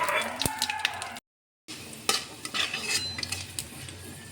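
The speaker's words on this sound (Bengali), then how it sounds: "এখন আমি বড়া ভাজা তেলের মধ্যে দিয়ে দেবো 5 ফোড়ন আর 2 শুকনো লঙ্কা" Panch phoron and two dry red chillies frying in leftover oil from deep-frying bora, a close, steady sizzle and crackle with spoon stirring and clinks of metal on the pan, briefly broken by a short silent gap.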